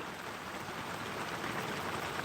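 Steady rain pours down in a continuous, even hiss that fills the whole stretch, with no voices or other sounds on top.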